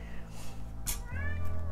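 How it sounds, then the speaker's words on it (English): A house cat gives a single fairly close meow, rising and then trailing off, heard over a quiet indoor hum. "That's my cat."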